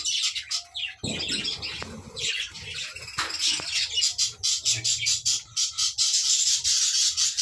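Budgerigars kept in breeding cages, some with chicks in clay-pot nests, chirp and squawk in a busy, overlapping chatter close by. The twittering runs continuously throughout, with a brief thump near the start.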